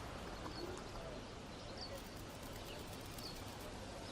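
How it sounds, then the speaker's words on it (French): Doves coo softly among sparrows and other birds in a tree, faint distant calls drifting over steady outdoor background noise. "ce sont les oiseaux qui lui rendent visite. Des moineaux, des colombes et parfois quelques pivers"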